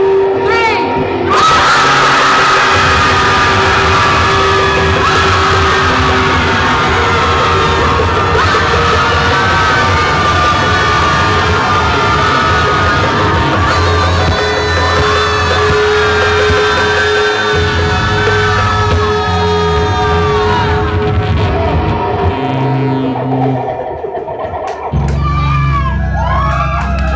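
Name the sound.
crowd collectively yelling and shouting on a count of three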